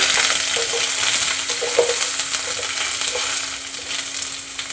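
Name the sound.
mustard seeds and onion frying in oil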